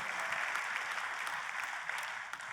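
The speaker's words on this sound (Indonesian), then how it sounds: "Kita kasih tepuk tangan dong yang paling meriah buat Tuhan kita." A church congregation applauds for God during a sermon, a steady, even wash of clapping from many hands that holds at moderate level without a break.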